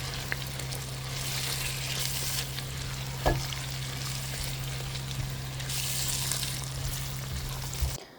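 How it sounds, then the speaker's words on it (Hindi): Meat frying in a pan with onions and tomatoes for shami kebab, a steady close sizzle with stirring scrapes throughout, one sharp clack near the middle, and a constant low hum under it. "अब आ गया भुनाई टाइम"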